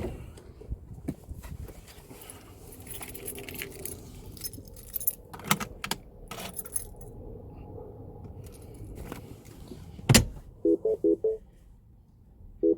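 A set of car keys for a Mini Cooper S R56 jangles close by in a series of bright metallic shakes and clinks, with quieter handling and rustling between bursts and no speech.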